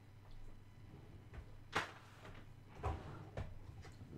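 A drawer is opened and closed indoors at a painting workspace, making a few faint wooden knocks and slides spread across a quiet room.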